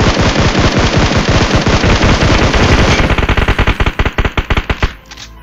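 Rapid automatic gunfire from a battle-royale style video game, a loud sustained burst of machine-gun shots that breaks into separated single shots before stopping.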